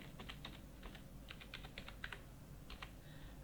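Quick bursts of keystrokes on a computer keyboard as a PAN number is entered into accounting software, clicks coming in short irregular clusters, close and quiet with no talking.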